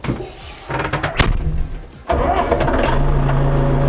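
A new DTZ 504 tractor engine cranks and turns over for about two seconds, then catches and settles into a loud, steady diesel idle close by, with no talk.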